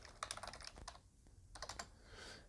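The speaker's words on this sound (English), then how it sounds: "we're going to type in Windows 11 Media Creation Tool" Typing on a computer keyboard in quick bursts of clicking keystrokes, with a short pause in the middle before another run of taps, close and fairly quiet with no voices.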